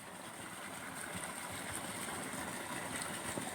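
A 1500 watt 3-inch AC/DC submersible water pump runs at about 3500 rpm, giving a faint, steady mechanical hum and watery churn with no talk.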